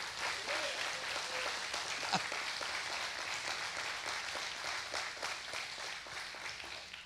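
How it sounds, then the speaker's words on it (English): A church congregation claps together in sustained, dense applause during worship, steady and moderately loud throughout, with a few voices faintly mixed in. "Can you give Him a hand clap of worship and a hand clap of praise?"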